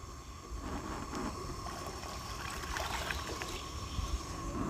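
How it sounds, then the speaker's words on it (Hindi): Cold water poured into a cooking pot while making Kashmiri pink tea, a continuous splashing gush with a trickling, watery texture that lasts the whole moment at a fairly steady level, with no voices. "अभी हम फिर दोबारा से ठंडा पानी ऐड करेंगे 1 गिलास"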